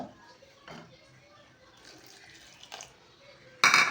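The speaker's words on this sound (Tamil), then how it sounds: "இதில் வந்து புளி தண்ணி ஃபஸ்ட் ஆட் பண்ணிக்கலாம்" Tamarind water poured into a cooking pot while making rasam: quiet liquid sounds for most of the moment, ending in a sudden loud, splashing pour near the end.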